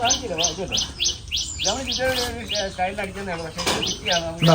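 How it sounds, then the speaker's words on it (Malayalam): Birds chirp and tweet in quick repeated bursts around a lakeside resort at Anchalassery tourist village, near and lively, with a few lower cooing calls mixed in. "കിളി കിളിയൊക്കെ ഉണ്ട് നാച്ചുറൽ ഫീല് കൊള്ളാം"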